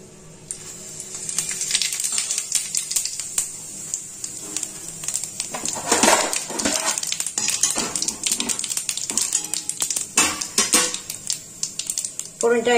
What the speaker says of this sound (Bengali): এখন আমি এই তেলে ফোড়ন দেব। ফোড়ন দেব হচ্ছে তেজপাতা, শুকনো লঙ্কা